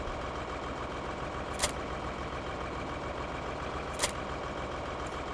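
Tractor engine idling in the video game Farming Simulator 2013, a steady droning rumble that stays level throughout, with two brief high clicks standing out above it, no voices.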